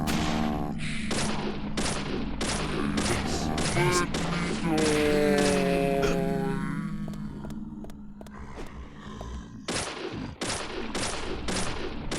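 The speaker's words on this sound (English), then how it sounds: "I emptied a whole clip on him, and those were all headshots" Repeated gunfire in the video game Deadly Premonition as a whole clip is emptied into an enemy, sharp shots in quick bursts with a short pause and then another volley, over game music and effects, with no speech.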